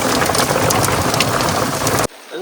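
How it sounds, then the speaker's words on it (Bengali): Steady heavy rain pours down by the Matla River, a dense hiss of drops hitting surfaces, cutting off abruptly near the end. "ভাই, কি বৃষ্টি, হ্যাঁ?"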